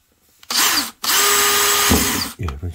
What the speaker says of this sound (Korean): 리벳에 맞는 구멍으로 드릴로 구멍을 뚫어줍니다